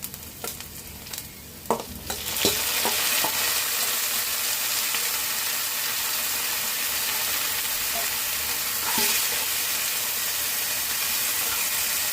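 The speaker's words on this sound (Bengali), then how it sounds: "ভেজে আমি শাকটা ভাজি করব" Jute leaves (pat shak) hit hot oil with fried garlic, onion and dried chilli. A few utensil clicks come first, then a loud, steady sizzle carries on close by with occasional stirring scrapes.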